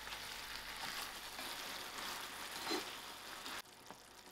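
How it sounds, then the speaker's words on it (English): Tomatoes are stirred into mushrooms cooking in a pan, giving a faint, steady sizzle with soft crackles throughout and a brief quieter moment near the end. "To my mushroom, I'm going to add in my tomatoes."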